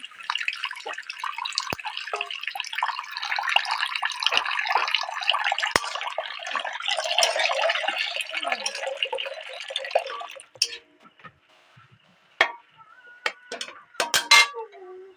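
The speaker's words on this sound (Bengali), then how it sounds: "কড়া বসিয়ে দিয়েছি, এবার জল দিয়ে দিচ্ছি।" Water poured from a container into a cooking pan (kadai) for palak paneer, a steady splashing stream lasting about ten seconds, then a few scattered drips and clinks.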